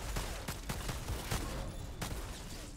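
Video game gunfire from pistols and an automatic weapon crackles in a fairly faint series of sharp shots at an irregular rhythm.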